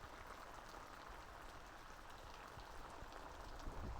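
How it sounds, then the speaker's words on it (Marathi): Heavy rain pours down outside a house in a Konkan village, a dense, even hiss of falling water that stays constant and fairly faint throughout. "पावसामुळे एकदम डेंजर पाऊस चालू आहे"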